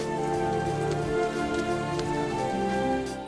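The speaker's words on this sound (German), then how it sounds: "Stattdessen hört man Musik und Regen rauschen." Steady rushing rain mixed with music from The Lion King, a continuous dense hiss with a tonal musical bed running evenly throughout.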